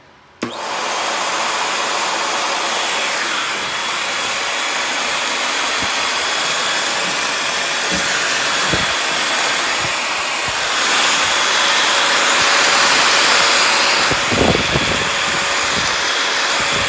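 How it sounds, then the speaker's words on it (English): A loud, steady vacuum motor whines continuously throughout while vacuuming the top of a ferret cage, with a few brief knocks and bumps against the constant roar. "I use it to vacuum up the top of the cage"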